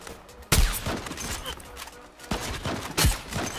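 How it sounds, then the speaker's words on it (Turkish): Gunfire in the online shooter Zula, with several loud broadband shots arriving in bursts about two seconds apart over a busy background of game noise, and a voice talking intermittently. "Bak sağdan birisi vuruyor"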